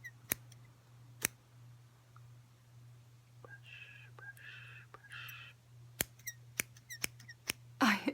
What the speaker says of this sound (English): I hate these scissors.